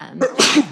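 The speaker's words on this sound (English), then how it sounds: "Bless you." A single sharp human sneeze, close and fairly loud, bursting out in a meeting room with no other sound around it.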